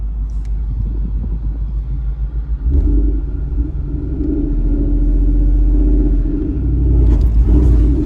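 Ford Mustang with a race setup rumbles loudly from inside the cabin while driven hard, a deep steady engine drone that climbs in pitch as it accelerates through the gears.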